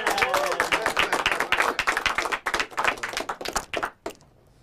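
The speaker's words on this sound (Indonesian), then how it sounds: "Beri tepuk tangan yang meriah." Applause and clapping from an audience at a stand-up comedy open mic, a dense burst of many hands for about four seconds before cutting off to near silence.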